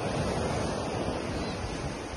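Sea waves wash onto the shore at the seaside in a steady, loud, broadband roar, mixed with wind buffeting the microphone, and no voices.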